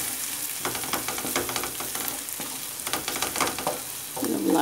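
Zucchini and tomato paste sautéing in a pan for an egg and zucchini dish, with a steady close sizzle and frequent stirring scrapes throughout.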